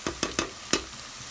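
Cameroon pepper and yellow pepper stirred in hot oil for fio fio with achicha ede, with four sharp scraping strokes over a soft, steady sizzle, close and fairly quiet.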